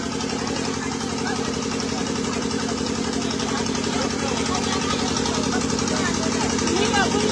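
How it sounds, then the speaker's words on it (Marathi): Two water drainage pumps run during monsoon flooding in Thane, giving a steady, continuous mechanical drone with a low engine-like hum throughout, while voices murmur in the background. "2 पंप लावलेत ना, आता 2 मिनिटं झाली ते चालू झाले."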